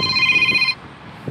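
A telephone rings with a bright electronic tone that cuts off after under a second, followed by quiet room noise and a faint voice.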